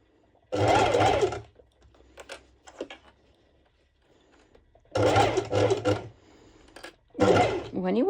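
A sewing machine or serger stitching close to the edge of fabric for a sporty top, running in loud short bursts separated by pauses with soft handling and faint talk.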